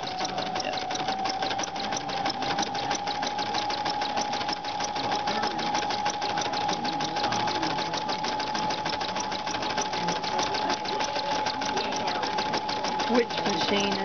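A Baby Lock Allure Plus sewing machine runs steadily at a fast, even pace while free-motion stitching with a transparent free-motion foot, producing continuous close-up needle chatter with a faint hum underneath.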